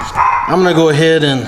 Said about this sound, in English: I am sorry about the barking